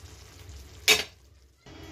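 Ghee and oil hitting a hot pan while preparing malai potol, a loud sizzling burst near the middle that fades, over low kitchen noise.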